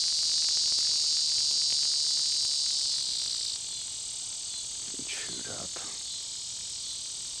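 Cicadas give off a shrill, steady buzz that drops in level partway through and then goes on more quietly. Brief faint rustling sounds come in near the end.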